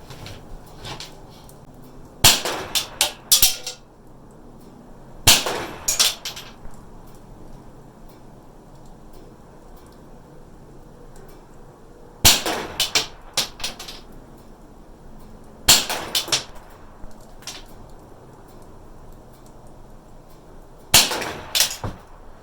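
A rifle fitted with a CMMG .22LR conversion kit fires five sharp, fairly quiet shots, spaced a few seconds apart, each a brief crack with a short tail, over a quiet outdoor background.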